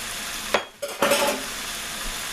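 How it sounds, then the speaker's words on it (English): Vegetables frying in butter in a pan for turkey à la king, a close sizzle interrupted by a short scrape and clatter of stirring, then the hiss swells again. "Now, let's get these vegetables cooking."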